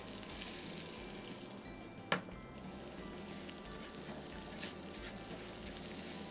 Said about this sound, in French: Il faut cuire le riz juste avec l'huile d'olive.